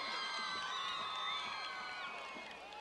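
Visiting Stockdale Mustangs fans at a high school football game against Centennial, a distant crowd with overlapping cheers, whoops and shouting voices sustained throughout, fading slightly toward the end.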